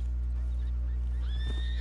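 A horse whinnies once in the online western game Red Dead Redemption 2, a rising, fairly loud neigh heard late over a steady low game hum with no talk.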